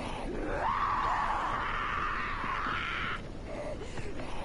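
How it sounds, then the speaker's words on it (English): A voice in a horror video game lets out one long, loud, wavering scream that holds steadily before breaking off, leaving a rough background ambience. "All I hear is this woman just screaming constantly"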